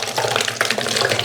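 Homemade fermented alcohol pours out of a container in a steady, splashing liquid stream, close and fairly loud throughout the short stretch.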